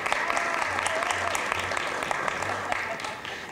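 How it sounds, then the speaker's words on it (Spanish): An audience applauds, a dense steady clatter of many hands clapping that fades slightly at the end, with a voice faintly audible underneath. "Un aplauso para ella, por favor."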